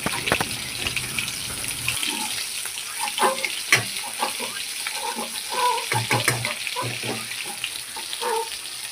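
Ingredients stir-fried in a pan, a broad sizzle with scattered scraping clicks of a spoon against the metal, steady and close, with no talk.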